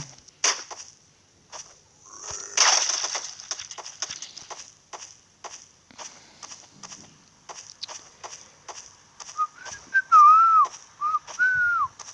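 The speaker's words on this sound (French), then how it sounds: "Ouais, je sais siffler." A person whistles a short, wavering tune near the end, preceded by scattered clicks, taps and shuffling sounds.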